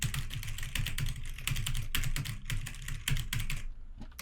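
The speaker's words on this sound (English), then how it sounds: "nobody likes hearing keyboard clicks" Rapid, uneven clicking of a computer keyboard during a Rainbow Six Siege match, keystrokes clattering close and loud in bursts, then trailing off into quiet at the end.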